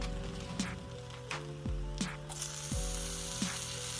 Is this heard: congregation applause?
no